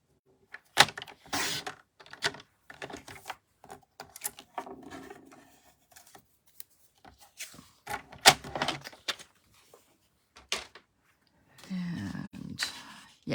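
Stampin' Up cardstock being trimmed to size for a handmade card, heard as intermittent scraping and rasping cuts with a few sharp knocks and pauses between passes, close and fairly quiet.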